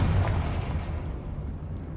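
A Confringo explosive spell from Hogwarts Legacy goes off as a low, heavy blast. Its rumble sustains, then slowly thins out over two seconds.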